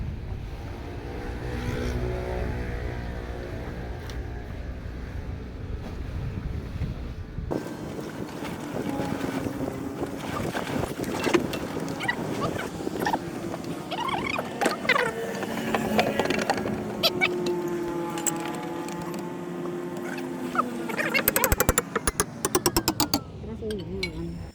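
A hand-crank-started boat engine on a fishing boat runs steadily just after being installed and tuned: a continuous droning hum with wind buffeting, growing louder partway through, while people talk nearby.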